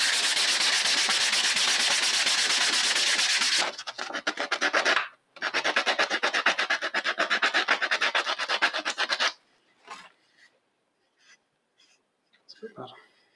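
Hand sanding a tigerwood and beech business card holder with sandpaper, a steady close rasping rub lasting several seconds, a short pause, then a rapid back-and-forth scrubbing run before it stops and only faint scattered rustles remain.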